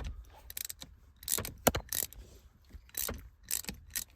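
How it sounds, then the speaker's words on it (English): A wrench works shifter bolts loose on a 1995 Mustang GT manual, heard as a close run of irregular metallic clicks, clanks and rattles in quick bursts with brief pauses between them. "Break these bolts loose."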